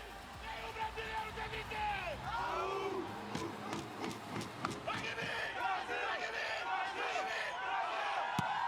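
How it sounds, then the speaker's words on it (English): Brazil's wheelchair rugby team bursts into a loud group cheer in their huddle at the Rio 2016 Paralympic Games, shouting voices overlapping with crowd noise and arena babble throughout. "Brazil will bring it in with one more cheer as they're in their circle, their huddle here"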